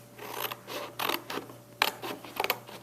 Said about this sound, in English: I'm going to cut out my 2 long skinny rectangles